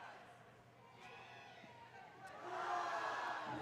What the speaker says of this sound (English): the crowd really starting to get into it now, trying to will this team to victory